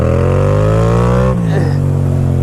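A 2015 Yamaha FZ07 motorcycle's engine runs steadily and loud while being ridden, its tone climbing as it revs, then dropping abruptly around the middle before settling back to a lower hum.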